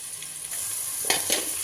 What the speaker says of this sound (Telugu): దీని ఇలా ఒక 1 మినిట్ ఇలా కలుపుకుంటూ ఉండాలి, అడుగు మాడకుండా కలపాలి.